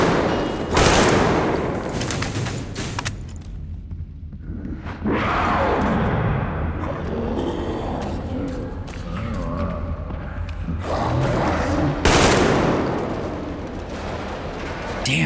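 Gunfire in Metro Exodus in a ruined dead city, loud bursts of rapid shots and booming blasts in several volleys with brief lulls, a voice speaking now and then between them.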